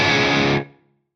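A loud burst of heavily distorted electric guitar through an FM3 Atomica High amp model is cut off, leaving a short reverb tail that fades out within half a second.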